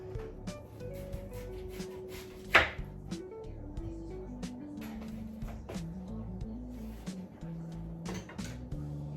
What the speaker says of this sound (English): And I have tomatoes here too. Just gonna cut it. And these are onions.